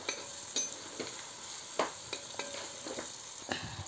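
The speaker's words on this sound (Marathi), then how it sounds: "थोडंसं जिरं, चांगलं आपण हलवून घेऊया।" Potato and okra in a pan with mustard seeds and cumin are stirred under a faint, steady sizzle, with soft, irregular scraping knocks from the spoon throughout.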